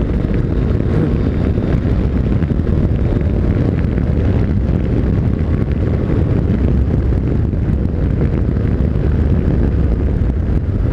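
Yamaha MT-09 Tracer motorcycle riding through curves on a road at speed, a constant loud roar of engine and rushing wind buffeting the microphone, steady throughout with no talking.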